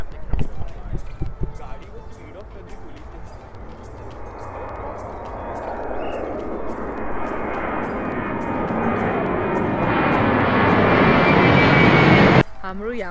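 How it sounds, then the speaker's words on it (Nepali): A low airplane on approach to land near the airport at Gravelly Point in Washington DC roars in and swells steadily louder overhead, then cuts off abruptly, with brief talk at the start. "यहाँबाट चाहिँ प्लेन एकदम नजिकबाट देखिन्छ रे, प्लेन उडेको ल्यान्ड गरेको"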